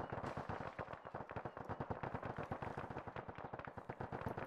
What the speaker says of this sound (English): we're definitely getting shot from the west